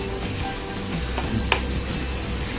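Chicken and tomatoes cook in a karahi with a steady, close sizzle and occasional stirring clicks, no voices.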